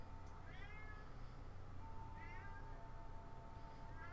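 A cat meows repeatedly in short rising calls, fairly close, over a steady low background hum with no talking.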